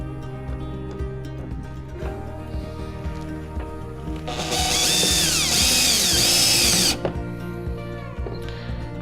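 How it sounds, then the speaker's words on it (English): Power drill briefly driving a screw straight into the plastic hull of a Hobie Passport 12 kayak, a loud whirring burst of a few seconds rising over quieter handling noise. "I'm just gonna go straight into the plastic with this screw"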